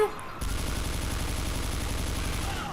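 Gunfire in Left 4 Dead 2: after a brief lead-in, a sustained stream of rapid, evenly spaced automatic shots rattles steadily for over two seconds, loud and close.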